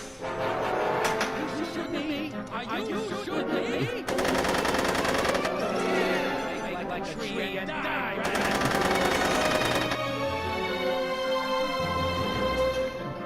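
Gunfire from the Back to the Future Telltale video game: bursts of rapid automatic shots crackle loudly and continuously over game music and effects, with a voice talking at points.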